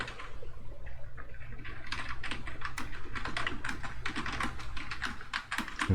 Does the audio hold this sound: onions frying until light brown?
no